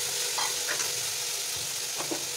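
Onion and radish fry in a pan, a steady loud sizzle with a few scraping stirs of a spoon, with no talk.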